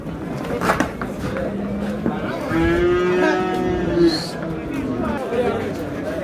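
Angus cattle moo at a livestock market in Navoi, Spitamen, with one long, clear, drawn-out low call amid market chatter and people talking nearby.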